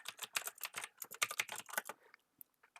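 A terminal command is typed on a computer keyboard, with a rapid run of close, crisp key clicks that slows to a few isolated taps at the end.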